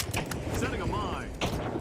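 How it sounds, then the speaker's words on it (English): Mechanical clicking and creaking as a mine is set in the video game The Finals, a short, dense burst layered over busy arena game noise and voice-like chatter. "Setting a mine."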